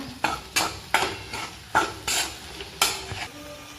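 Homemade black masala being stirred and fried in a black iron kadhai for pavta aamti, a faint sizzle broken by about seven sharp spatula scrapes and knocks against the pan, no talk.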